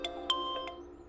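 A mobile phone ringtone chimes faintly in a quiet room, a few short bright tones in quick succession with a lingering hum beneath.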